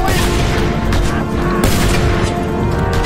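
Explosions and gunfire from the open-world action game Just Cause 2, a loud continuous barrage of blasts and crackling booms filling the whole stretch, with a player's voice talking faintly underneath.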